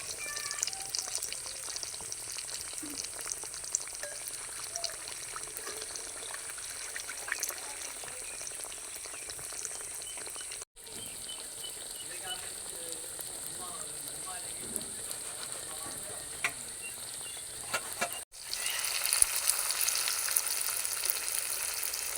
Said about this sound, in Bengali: এবার তেলটা গরম করে আস্তে আস্তে একটা একটা করে ভেজে নেব।